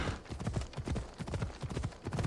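Horse hooves clip-clop at a steady brisk trot in Assassin's Creed Odyssey, a continuous rhythmic patter of close, dense hoofbeats.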